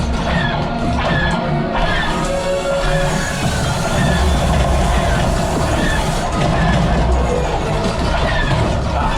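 Loud, continuous rumble and clatter of a moving train with metallic screeches in the Millennium Falcon: Smugglers Run ride simulation at Disney's Hollywood Studios, dense and close throughout, no pauses.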